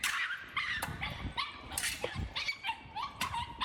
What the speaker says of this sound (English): You can hear the heart-wrenching screams of the dog, which according to the neighbor is just 5 months old and less than 5 pounds.